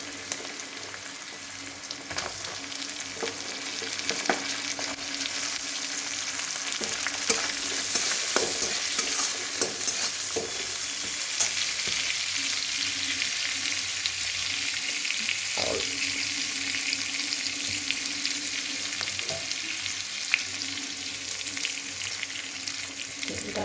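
Cashews and raisins fry lightly in a little oil, giving a continuous soft sizzle with frequent scraping and clinking stirs in the pan, close and steady throughout, with no talking.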